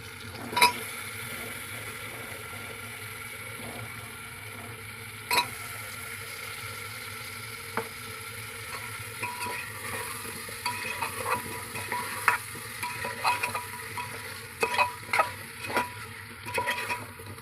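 Steady sizzle of potatoes frying in a pan, with intermittent scraping and clinks of a spoon stirring, growing busier toward the end.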